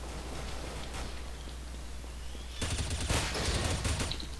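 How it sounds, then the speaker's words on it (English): Bursts of automatic gunfire in the video game Counter-Strike: Global Offensive, starting after a quieter stretch and then firing in dense, loud rapid volleys that run to the end. "Oh, wow, I'm shooting my teammates."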